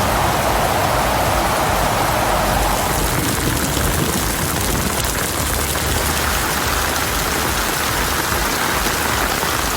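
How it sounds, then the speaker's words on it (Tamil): Heavy rain falls in Kodaikanal, a loud, dense and steady roar of drops hitting surfaces that holds constant all the way through, with no thunder clap standing out and no voices. "1 மணி நேரத்திற்கு மேலாக இடியுடன் கூடிய கனமழை பெய்தது"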